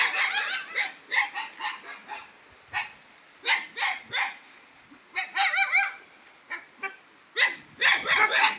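Several dogs in a riverside grove bark in repeated bursts, some sharp and clustered, others spaced apart, moderately near with bird-like honks mixed in and no talk.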